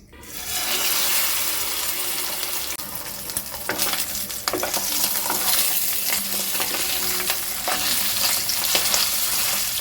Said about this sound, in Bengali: এবার আমি কড়াইতে দিয়েছি সর্ষের তেল মাছের ডিমগুলো কিন্তু এই তেলে ভেজে নেবো